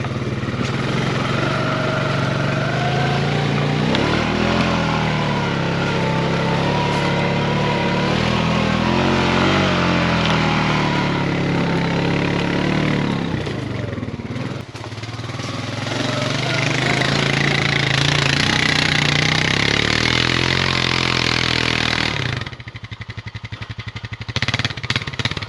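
An old Honda ATV crosses a snowy backwoods forest trail, its engine roaring loud and close almost nonstop, rising and falling with throttle changes, then dropping to a rough idle near the end.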